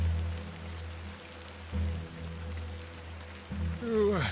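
Steady rain patters on surfaces in the game The Excavation of Hob's Barrow, a continuous soft hiss with low rumbling underneath and a brief rising tone near the end, no voices.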